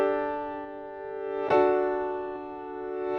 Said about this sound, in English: This is the piano. We start off with a plugin called Backmass. It just reverses the sound.